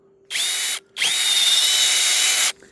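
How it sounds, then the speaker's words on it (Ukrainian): A cordless drill-driver bores into a pear with two high whining bursts, a short one and then a longer sustained run, separated by a brief pause, close and loud. "Попробую просвердлити грушку."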